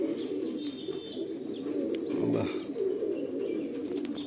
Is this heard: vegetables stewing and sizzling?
no